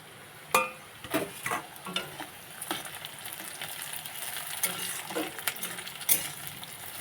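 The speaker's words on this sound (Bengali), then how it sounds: "দিয়ে ক্যাপসিকামটা ভালো করে ভেজে নেব।" Chopped capsicum fries with onion in a hot pan, a steady sizzle broken by repeated scrapes and clinks of a spatula stirring against the metal.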